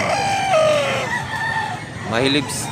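A pumpkin-coloured gamefowl rooster, a pumpkin dragon with green legs, crows once loudly and close, a long rising-falling call ending in a sharp upward note.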